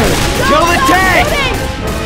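Guns firing at the Tank in Left 4 Dead 2, a short stretch of loud, booming shots and crashing impacts mixed with voices talking over the fight.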